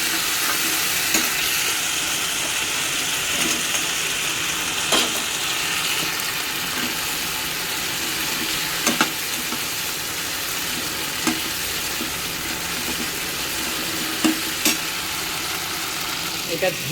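Food frying in a pan on a gas stove, a continuous sizzle with scattered scraping clicks as it is stirred, and faint talk underneath.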